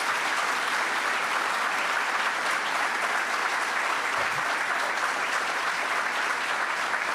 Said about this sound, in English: You give them a round of applause